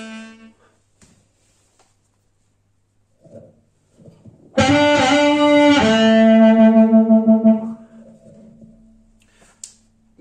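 Blues harmonica played without a microphone: a bright reedy chord blown loud for about three seconds, bending and then fading into a held low note, after faint handling noises and breath.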